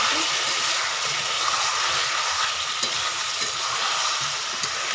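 Chicken pieces frying in oil in a pot as they're stirred for a chicken and potato curry, a dense continuous sizzle with soft scraping stir strokes, close and steady, no talking.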